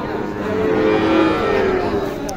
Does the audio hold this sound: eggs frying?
no